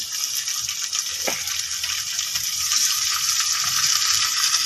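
Eel and catfish sizzle and fry in a pan, a steady loud hiss that builds slightly, with one brief clink of a utensil near the start.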